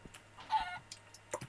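Short clucks and a brief squawk from a cartoon chicken in a multiplayer video game, a few quick bursts over a low steady hum.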